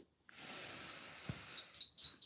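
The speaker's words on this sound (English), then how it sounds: "for listening to the birds" Outdoor birds chirping, faint and distant, with a few short tweets toward the end over a soft background hush.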